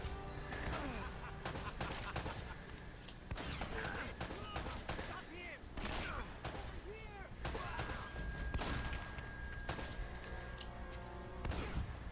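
Gunfire in the video game Uncharted: Drake's Fortune, with frequent sharp shots and bursts over a steady layer of game effects and music, under a voice talking.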